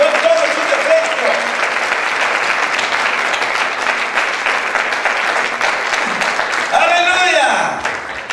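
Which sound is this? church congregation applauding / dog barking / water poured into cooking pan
church congregation applauding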